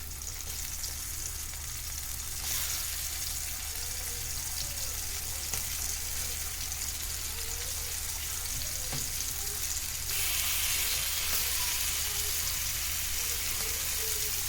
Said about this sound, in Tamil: இப்போ தோசைக்கல் அடுப்பில் வச்சுட்டு மேலே லைட்டாக எண்ணெய் ஊற்றிக்கலாம்